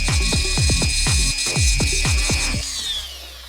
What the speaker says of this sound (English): I think it needs to be drilled down